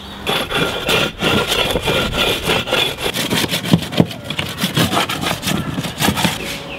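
Rhythmic rasping strokes of scrubbing across a drying deer skin, a quick back-and-forth scraping repeated steadily at close range with no talking.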